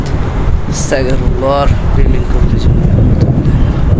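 Strong wind roars and buffets the microphone in a steady, loud rush during a thunderstorm in Mecca, with a brief voice sound partway through.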